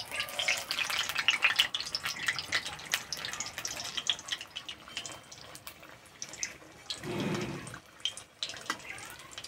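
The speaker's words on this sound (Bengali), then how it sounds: "তেলটা খুব গরম হয়ে গেছে, সেই জন্য দুটো করে ভেজে নেব।" Pointed gourd pakoras fry two at a time in very hot oil, giving a bubbling, crackling sizzle close by with scattered sharp pops and a brief low rumble, with no talking.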